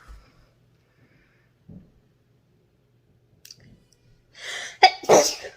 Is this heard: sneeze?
yes